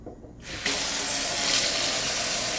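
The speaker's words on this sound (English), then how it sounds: "Now let's go up and see, operate the faucet." A newly installed WOWOW kitchen faucet is turned on, quiet at first and then a sudden steady gush of running water into the sink that stays loud and close for the rest of the moment, with no speech.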